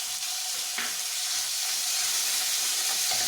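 Tomato puree hitting roasting potatoes in a hot pan, a loud steady sizzle and hiss that holds close and even throughout.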